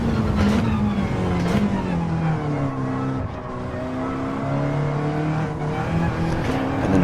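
A race car's engine at Fuji in a racing game, loud and close: the engine note falls as the car brakes into a corner, then climbs again as it revs back up through the gears.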